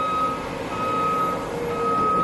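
A Caterpillar 730 articulated truck backing up on a job site, with a steady, piercing reversing alarm over loud, continuous engine rumble and no voices.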